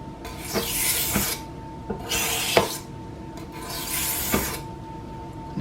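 A kitchen knife drawn across the finest sharpening stone makes repeated raspy scraping strokes, about four long passes with short pauses between, close and fairly loud, with no talking.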